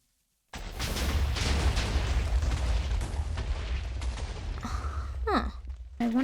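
Rumbling TNT cannon explosions in the Minecraft video game, a sustained loud roar of blasts with crackling bursts, thinning out near the end.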